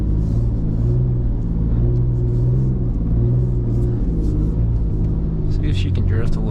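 A BMW E39 engine drones steadily in third gear while driving through a snowy blizzard, a loud continuous rumble with a slight rise in revs, heard from inside the car with people talking over it.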